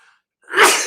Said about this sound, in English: Just ignore my sneezing.